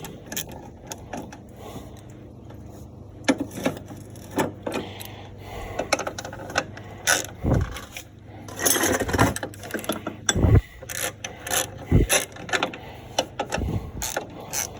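A ratchet cranks bolts off a Snapper riding mower, giving repeated close runs of fast clicking with metallic knocks and clanks in between.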